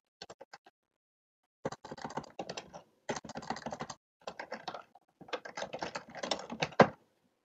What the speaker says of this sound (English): Typing in my password is the hardest thing I do at work every day.